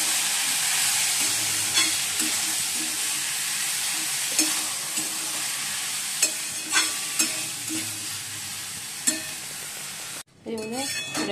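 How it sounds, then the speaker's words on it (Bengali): Eggplant cooks for begun pora in a home kitchen, a steady frying sizzle with occasional stirring scrapes and utensil clinks, ending in a sudden brief break and a different clatter. "আর এদিকে দেখো বেগুনটা পোড়া দিয়ে দিচ্ছি"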